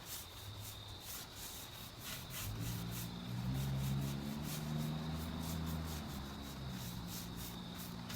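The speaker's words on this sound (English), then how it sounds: "This is just a towel to wipe it off." A towel wipes colored black wax across the carved details of a small wooden sideboard, making a continuous soft scrubbing rustle that swells a little in the middle, with no voices.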